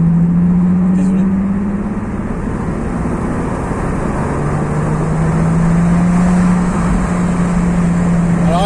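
Car engine heard from inside while driving, a loud steady drone with a slowly rising and falling pitch as the revs shift, continuous throughout.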